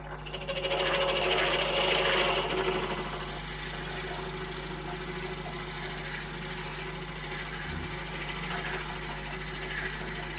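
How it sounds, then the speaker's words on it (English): A wood lathe drills a pen kit blank at about 450 RPM, giving a steady, close mechanical drone with a continuous low hum that is a little louder for the first few seconds, then holds an even level to the end. "I'm drilling about 450 RPM here."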